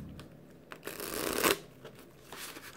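Tarot cards are shuffled before a reading, a soft papery rustle that swells into a brief riffling burst midway and then fades, quiet and close with no talk.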